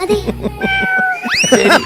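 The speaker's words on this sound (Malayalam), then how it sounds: "പാടും പൂച്ച. പൂച്ചയാണ്." A cat meows in a couple of rising and falling calls, close and fairly loud, following rhythmic music with a voice over it.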